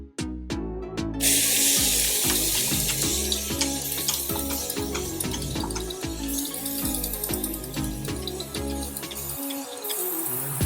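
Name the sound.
spraying water to wet hair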